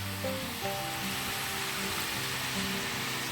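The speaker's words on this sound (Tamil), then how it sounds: "முறுக்கு நல்லா சூப்பராக எண்ணெயில் வெந்துட்டுருக்கு பாருங்கள்" Murukku fries in hot oil in a pan, giving a steady, soft hiss and crackle throughout. Faint music tones run underneath.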